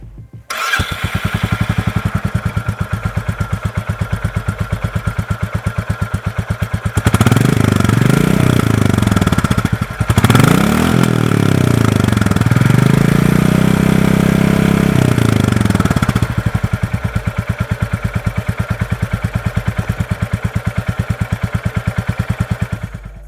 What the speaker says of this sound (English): I cannot miss talking about the unmistakable thump of the exhaust note.